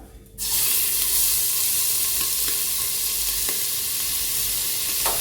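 Chopped garlic, green chili and ginger hit hot coconut oil in a Kerala tapioca biryani preparation, bursting into a loud, steady sizzle after a brief quiet start, with faint crackles and spits throughout.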